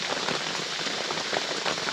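Heavy rain pours down in a forest during a storm at night, a dense, loud, steady hiss of drops hitting leaves and surfaces, with no voices.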